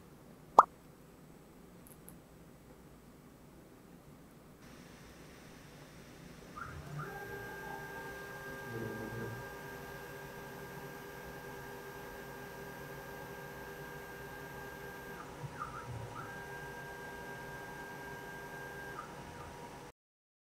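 Resin 3D printer running a job for a surgical guide: after a sharp click, a steady mechanical hum and faint whirring settle in, with sustained tonal motor notes that pause briefly and resume, heard alone at moderate distance.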